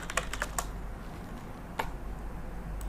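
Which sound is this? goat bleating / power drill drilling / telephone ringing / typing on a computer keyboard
typing on a computer keyboard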